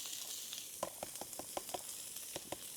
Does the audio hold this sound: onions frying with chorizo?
yes